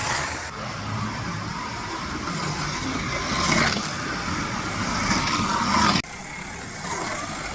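A Revoslot Opel Kadett slot car runs around a track, its small electric motor giving a steady, loud whine that rises and falls in pitch as it laps, then cuts off abruptly and starts again, with no voices.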